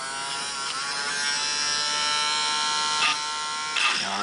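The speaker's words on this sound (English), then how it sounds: "Now I've been grinding on this for just a little bit." A rotary grinding tool whines steadily while enlarging a hole in a GSG-5 rifle lower receiver, a continuous high buzzing with brief surges in pitch near the end, close and loud with no talk.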